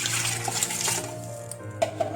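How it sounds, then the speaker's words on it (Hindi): Water runs steadily for a couple of seconds, a continuous splashing stream with faint clinks, poured into a pot of mutton with garlic, ginger paste and onion. "और इसमें पानी डालेंगे"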